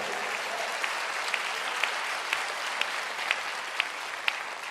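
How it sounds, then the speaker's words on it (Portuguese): A church congregation claps steadily in a broad, even wash of applause, with a few sharper individual claps standing out at a regular pace, heard from a moderate distance. "Aplauda ao Senhor."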